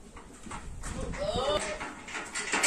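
A Gujri goat in Pipar, Rajasthan, gives a single short wavering bleat at close range, with voices and outdoor noise around it.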